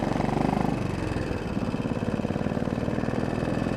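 A Royal Enfield motorcycle engine runs steadily close by, with a low, pulsing thump that is loud and even for the whole stretch and has no talk over it.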